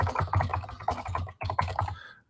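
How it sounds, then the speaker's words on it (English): Rapid clicking of keys on a computer keyboard, typed in quick irregular bursts with a brief pause partway through, close and steady before trailing off. "my microphone might be cutting out because I'm typing and talking at the same time"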